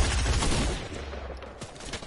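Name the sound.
gunfire in a shooter video game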